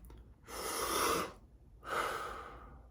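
Two deep, drawn-out breaths through the mouth as part of a breathing exercise, each a long broadband airy rush lasting about a second, close and fairly loud, separated by a short pause with no talking.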